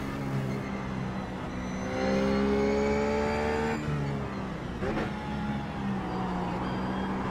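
An iRacing race car rolls into the pit lane at Mid Ohio, its engine droning with shifting pitch as it slows and revs, loud and steady without talk.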